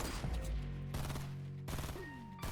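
Gunfire in a Fortnite match, several rapid bursts of shots with short gaps between them, loud and close, no talking over them.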